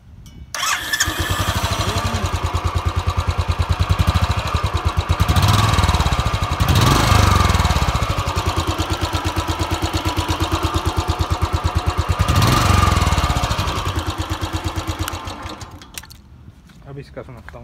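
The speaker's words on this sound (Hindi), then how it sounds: "चलो मैं अब आपको इसका एग्जॉस्ट नोट सुना देता हूँ एक बार दोनों का ही।" Royal Enfield Classic 350 motorcycle starting up and idling with a loud, close, steady thumping exhaust beat, punctuated by a few revs, then cutting off near the end.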